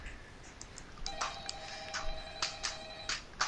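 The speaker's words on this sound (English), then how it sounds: "So wait, phone's buzzing." A phone rings in the Five Nights at Freddy's video game, a tonal ringtone with repeated pulsing bursts over a faint background hum, moderately close and without talk.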